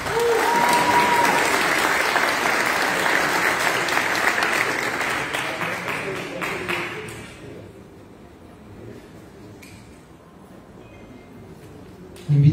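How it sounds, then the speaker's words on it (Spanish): Audience applause at a formal ceremony where names are called one by one: a dense, loud wash of clapping that fades out after about seven seconds, leaving quiet room tone before a sudden sound at the end. "Un aplauso para Melissa."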